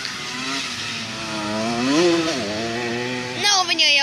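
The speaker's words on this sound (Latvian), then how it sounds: "Nav viņai jaudīgs mocīts." A small motocross motorbike ridden by a young girl revs and buzzes with a high, wavering engine whine, rising and falling in pitch before a sharper rev near the end, moderately close.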